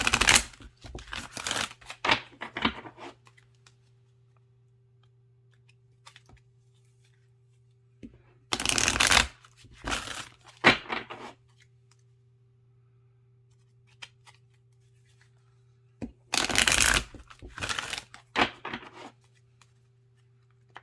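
Three separate bursts of quick riffling card shuffles, each a couple of seconds long, separated by quiet gaps over a steady low hum.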